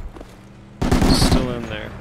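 Machine gun fire in the military shooter game Project Reality, suppressing a bunker: after a quiet lead-in, a sudden loud, sustained burst of rapid automatic shots rings out and rattles on to the end.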